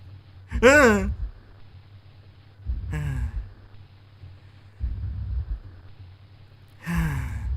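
Three or four audible breaths, heavy sighs and gasps from a female character in the visual novel game Doki Doki Literature Club, spaced a couple of seconds apart over a low steady hum, close and fairly loud.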